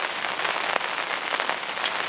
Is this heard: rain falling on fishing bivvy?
yes